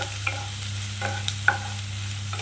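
Whole spices frying in oil in a pan for a katla fish stew, stirred with a few light scraping taps over a low, steady sizzle.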